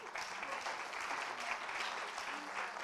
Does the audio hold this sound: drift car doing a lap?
no